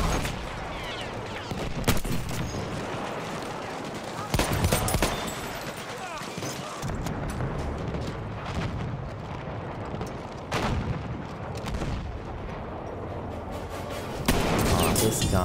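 Booming Martini-Henry rifle shots fired inside a building in Battlefield 1, several loud, reverberant blasts spaced a few seconds apart amid a dense battle din of distant gunfire and explosions, with a voice talking in between.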